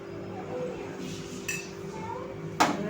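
A spoon scooping chocolate ganache for a no-oven truffle cake gives two short, light clinks against the bowl, spaced about a second apart, over a steady low kitchen hum.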